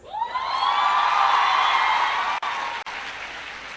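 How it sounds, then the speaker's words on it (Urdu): Audience applause at a scholarship program event in Multan, a bright, dense burst of clapping that swells quickly, holds strongly for about two seconds and then thins out. "اور یہ تالیاں جو ہے نا وہ لڑکوں کی طرف سے زیادہ بجنی چاہیے"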